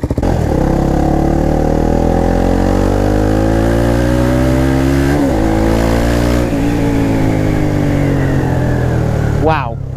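A KTM Duke 390 motorcycle on a night ride, its engine droning loud and close throughout with rising and falling revs, a sharp rev dip midway and a quick blip near the end, while a voice talks over it.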